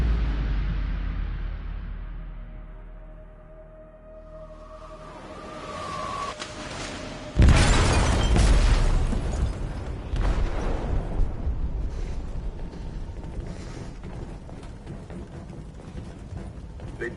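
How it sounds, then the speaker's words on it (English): An explosion in a ship's hold in Detroit: Become Human, a sudden loud blast after a quiet stretch of fading ambience, followed by sustained rumbling and mechanical creaking. "They detonated an explosive in the hold."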